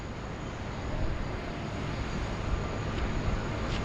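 An airliner approaches along the runway at Sydney Airport in heavy rain and wind, a continuous, broad engine rumble that swells slightly while steady weather noise surrounds it.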